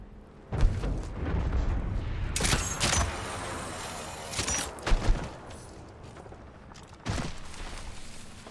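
A gravity cannon fires in a video game, bursting out in several loud booming blasts with crackling, noisy tails, separated by quieter stretches of rumbling game background.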